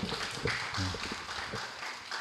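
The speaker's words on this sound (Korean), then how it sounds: "박수 부탁드리겠습니다." Congregation applause at a Sunday church gathering. Moderately dense clapping, slightly distant, holds steadily and then thins out toward the end.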